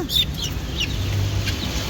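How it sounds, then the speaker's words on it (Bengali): Chicks, ducklings and guinea fowl calling at the Nimtoli bird market, several short chirps over a constant background hum and crowd murmur. "এই দেখেন এখানে কত তিতি বাচ্চা"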